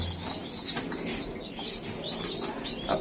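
Repeated wing flaps from Budapest pigeons and squabs in bursts, with soft cooing and a few faint chirps among them, fairly close and steady throughout.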